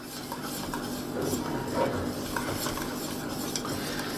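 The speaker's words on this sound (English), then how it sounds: "It's all about stirring. Stirring, stirring, stirring." Polenta being stirred in a pot on low heat: a spoon scrapes and knocks rhythmically against the pot over a soft background bubble, close and steady, with no voices.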